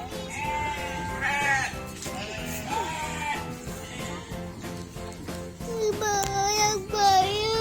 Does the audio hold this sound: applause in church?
no